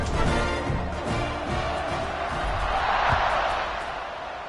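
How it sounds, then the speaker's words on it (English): A football stadium crowd in Memphis keeps up a loud, sustained roar and buzz after a score, with scattered cheers and whoops swelling near the end. "this crowd is buzzing after that last score"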